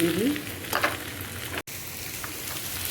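Cumin, salt and spices dropped into a hot frying pan for a home-cooked dinner, with a steady close sizzle and faint stirring scrapes throughout.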